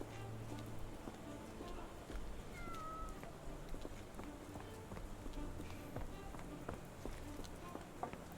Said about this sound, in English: Did I hear a kitty? I heard a kitty!